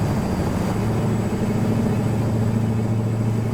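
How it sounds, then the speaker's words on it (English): A Mack V8 truck engine runs steadily in American Truck Simulator, a constant deep, moderately loud drone with no pauses. "So it's got a good sounding engine, but it's not super loud."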